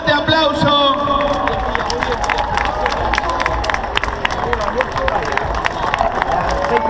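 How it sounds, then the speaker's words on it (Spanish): Spectators applauding and cheering runners arriving at the finish of the McDonald's 2014 race in Montevideo, dense crowd noise with sharp repeated claps, loud and close, with voices mixed into the din. "deberíamos acompañar con un fuerte aplauso"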